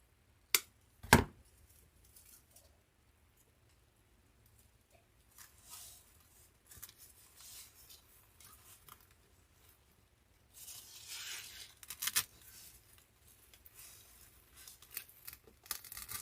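Peony stems are trimmed for a flower arrangement on tile: a few sharp, isolated snips of cutting blades stand out against soft rustling and handling noises, quiet and close with long near-silent gaps.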